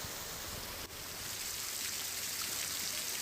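Heavy rain pours over flooded streets in Navsari, with rainwater running and splashing in a steady, dense wash that stays loud and even throughout, no voices.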